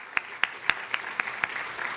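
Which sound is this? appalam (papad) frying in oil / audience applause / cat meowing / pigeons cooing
audience applause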